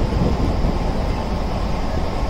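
A local suburban train rolls through Chennai, giving a continuous loud rumble and rattle of carriages on the rails, heard steadily from inside with no clear speech.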